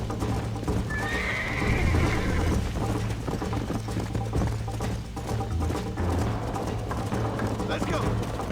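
A horse whinnies near the start in Red Dead Redemption, with steady clip-clopping hooves running throughout over a constant low hum, game-like and fairly loud.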